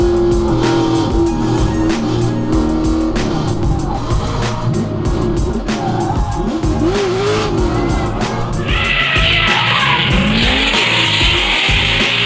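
Drift cars at a Gridlife Midwest event slide in tandem on Falken tires, engines roaring loudly with continuous tire squeal and skidding, rising into a harsh prolonged screech toward the end.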